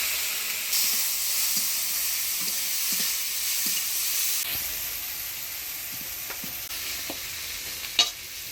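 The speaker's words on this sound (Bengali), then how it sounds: "এবার চিংড়ি মাছটা ভেজে নিব।" Small shrimp frying in mustard oil in a village kitchen, a bright continuous hiss and sizzle with soft periodic stirring taps, close and steady, ending with a sharper clack.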